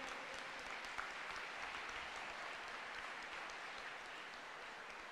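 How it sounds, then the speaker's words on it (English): Soft, distant applause rolls on without a break from a crowd at a junior artistic swimming championship in Malta, dense and even, with a faint voice underneath. "I think we should give them all a big round of applause"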